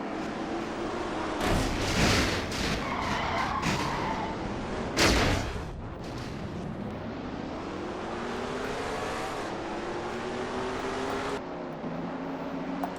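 In a NASCAR racing game, stock cars wreck in a crash. Engines roar through it, with sharp impact bursts and a long screeching skid that fades, and no talk.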